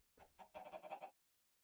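Chicken clucking in Minecraft modpack StoneBlock 4, a short run of close, clear clucks, two separate calls followed by a quicker rippling burst, then silence.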